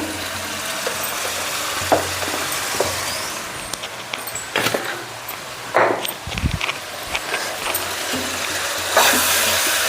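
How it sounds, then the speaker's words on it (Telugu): Chili powder, coriander powder and turmeric frying in oil for a village-style Telugu dried fish curry, a steady low sizzle with scattered scraping and stirring clicks, fairly close and without talk. "కారం ధనియాల పొడి పసుపు కూడా ఆయిల్లో ఫ్రై అయితే"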